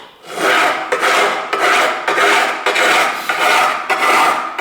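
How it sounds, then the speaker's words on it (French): Coarse bastard file rasping on a brass plate in steady back-and-forth strokes, about six long rough scrapes with brief pauses between, close and loud, no talking. "j'y vais à la lime à la bâtarde pour dégrossir"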